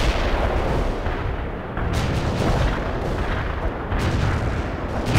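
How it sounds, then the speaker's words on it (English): Heavy artillery strike in the real-time strategy game World in Conflict: a dense, loud, continuous barrage of booming blasts and rumbling impacts that swell and overlap with no pause, close and overpowering. "Heavy artillery strike fire."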